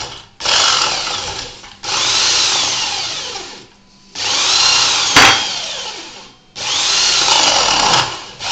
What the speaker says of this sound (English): you drill down like Ronan will show to us just now.